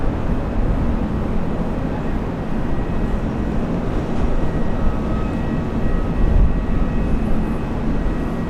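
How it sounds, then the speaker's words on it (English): Qatar Airways Boeing 777 arriving at Brisbane International Airport, heard as a loud, steady, broadband jet engine roar that holds level throughout without clear rise or fall. "Looking for the Qatar 777 arrival. Should be coming up very soon."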